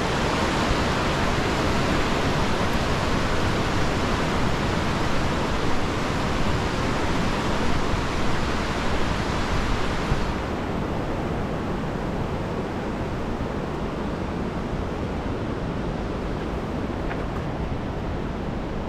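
Water flooding into an old mill channel and striking the mill wheel, a dense, steady roaring rush that stays loud and unbroken throughout, easing slightly partway.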